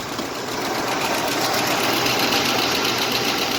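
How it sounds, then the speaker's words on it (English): A 1968 Jeep Wagoneer engine idling with the hood open, a close, loud and steady rumble with a fine, even mechanical patter throughout and no talk. "Look how smooth the engine is."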